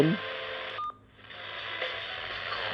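A few short electronic keypad beeps from a TCM FM radio over steady radio hiss, with a brief dip in the noise partway through.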